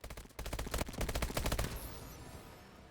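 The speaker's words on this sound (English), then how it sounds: "the IMR is a 3-round burst" Three-round bursts from an IMR rifle in a video game ring out as rapid loud cracks, with several bursts fired one after another before the sound fades into a short reverberant tail.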